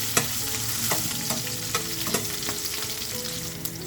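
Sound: crushed garlic and chillies frying in a pan on medium flame

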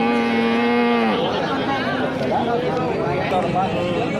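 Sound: Punganur cow mooing at cattle market

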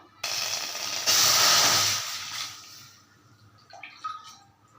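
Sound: water poured onto rice flour in a heavy pan

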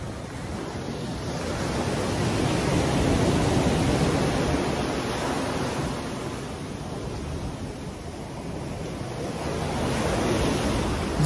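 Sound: sea waves at Maya Bay beach, Thailand

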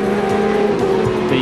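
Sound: Formula One Tyrrell 022 race car driving

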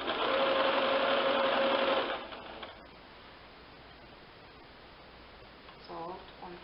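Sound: sewing machine stitching a cushion cover

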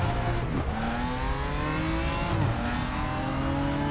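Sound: Porsche race car engine in the racing game RaceRoom

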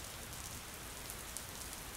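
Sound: large raindrops falling

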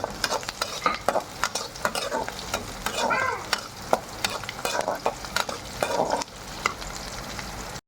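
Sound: onions and green chillies frying in a pan

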